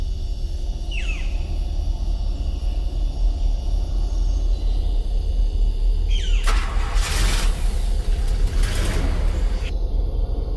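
A bus engine rumbles low and steady, then a burst of hiss like released air brakes follows as it pulls off, with a couple of short high squeals along the way.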